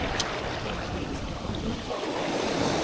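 Big ocean waves break and wash steadily onto a rough, windy beach in bad weather, a continuous loud surf roar with gusty wind buffeting the microphone.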